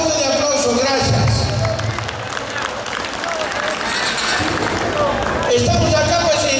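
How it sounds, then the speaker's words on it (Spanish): Audience at a street comedy show in Huarocondo clapping in a loud, sustained wash of applause with crowd noise, fading slightly midway before swelling again. "Si me regalan un fuerte voto de aplauso"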